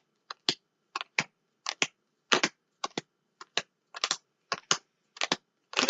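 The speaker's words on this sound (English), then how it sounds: "I'm going to spread these out kind of one by one this time" Tarot cards laid down one at a time on a surface, each placement a crisp papery slap or flick. About a dozen separate taps come in an irregular, unhurried rhythm, close and fairly soft, with no talking.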